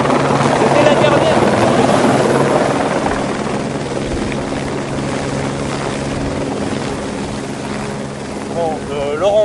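Helicopter making rotations at the Grands Montets ski area in the mountains, a loud, steady close rotor thudding and engine whine that fades slightly, with people talking toward the end.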